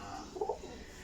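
Pigeons coo in a short, soft burst of two or three low warbling notes near the middle, close by and fairly quiet, against a faint steady background with no talk.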